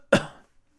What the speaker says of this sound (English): That's how the movie starts, coughing over a black screen.